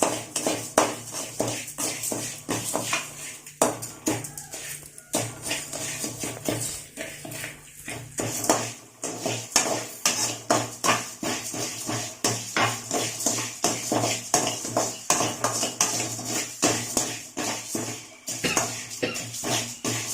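A utensil scrapes and taps steadily against a pan as raw rice is dry roasted in a little oil while it is stirred, giving a continuous rhythmic rustle over a low background hum for a curry leaf powder.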